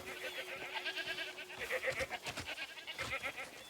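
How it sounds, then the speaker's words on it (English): Goats bleating in the video game Crimson Desert, a chorus of overlapping high calls repeating in quick bursts at moderate distance, with a steady tone humming underneath. "Goats! Look at all the goats!"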